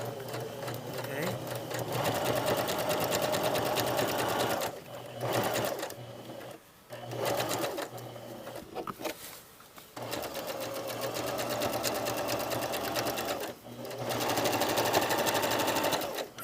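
A sewing machine stitches a patch pocket onto fabric, running in steady sustained bursts with several short pauses, loud and close, while a person talks over it.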